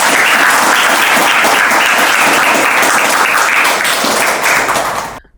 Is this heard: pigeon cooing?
no